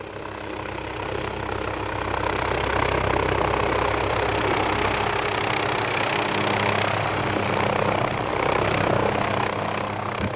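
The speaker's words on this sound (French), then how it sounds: "un vrombissement sourd accompagné d'un vent soudain vint les distraire d'un seul coup" A helicopter descends toward a small clearing, its engine and rotor thrumming loud and close with a deep pulsing beat and a broad rushing wash, steady throughout.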